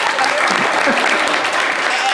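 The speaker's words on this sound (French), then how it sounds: "Applaudissez pour elle." Loud, close applause from a live audience for a woman, a thick continuous clatter of many hands with voices mixed in underneath.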